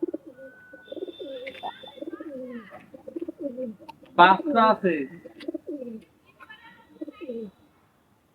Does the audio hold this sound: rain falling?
no